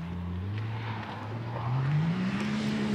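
A stage 4 RWI X100 off-road vehicle engine revs hard under throttle, a loud continuous drone whose pitch climbs steadily across the clip, close and dominant with no talk over it.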